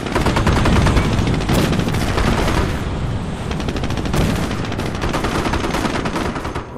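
Dense machine-gun and rifle fire rattles loud and continuous in a Company of Heroes battle as engineers come under attack, with scattered heavier booms.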